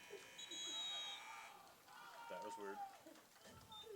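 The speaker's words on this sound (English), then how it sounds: "as the buzzer goes off, teams will be entering the field" A buzzer sounds at a boys' soccer game, a sustained electronic tone at the start fading after about a second and a half, heard under crowd murmur and nearby voices.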